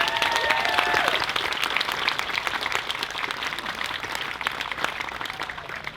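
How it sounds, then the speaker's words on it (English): Sustained audience applause at a school anniversary celebration, honouring the board of directors, superintendent and teachers: dense, steady clapping from a large crowd that stays loud throughout, with a brief whistle near the start. "give a big round of applause to your board of directors, to the superintendent, and all the teachers here"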